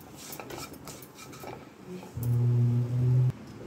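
Boiled goat brain being stirred and fried with masalas in a pan, with faint utensil scraping and clinks, then a steady loud sizzle rising near the end.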